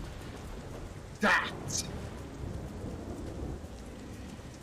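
A thunderstorm in The Saboteur: steady rain hisses throughout while one sharp crack of thunder breaks out, followed by a low rumble, and a voice speaks briefly.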